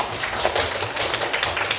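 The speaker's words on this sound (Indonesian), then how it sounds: "Tepuk tangan untuk Askia" Classroom students clapping for a classmate, a brief burst of quick, close, fairly loud hand claps without voices.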